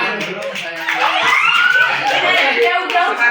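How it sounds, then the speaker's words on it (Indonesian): Students in a high school micro-teaching classroom clap together briefly, a short burst of close hand claps amid chuckles and voices. "Oke, baik, tepuk tangan."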